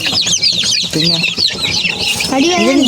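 Chickens and chicks cluck and chirp nearby on a home farm, a white hen among them, with busy overlapping peeps and short clucks throughout, some wing flutter, and a voice speaking briefly in the middle.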